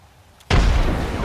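A frag grenade goes off in a tactical shooter video game, a sudden loud boom after a quiet moment that holds as a heavy, rumbling roar.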